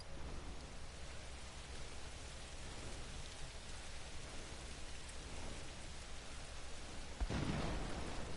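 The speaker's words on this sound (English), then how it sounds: "Sounds like thunder." A thunder crack and rumble bursts out near the end over steady heavy rain in the hunting game theHunter: Call of the Wild, the rain hissing evenly throughout with no talk.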